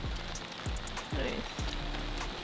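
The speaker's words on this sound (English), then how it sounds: "This rain is not a joke." Heavy rain pours steadily on a golf course, a dense close hiss with spattering drops, and a few soft thumps come through underneath.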